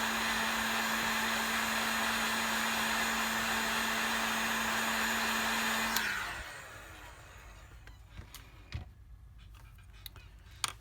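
A heat gun warming an iPhone 7 screen during repair blows with a steady, loud whirring roar and a constant hum, then switches off about six seconds in, leaving faint clicks and small handling taps.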